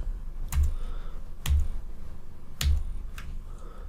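Several sharp key presses on a computer keyboard during Fusion 360 modeling work, arriving as three or four distinct clicks spaced about a second apart with low thumps, close and alone in a quiet room.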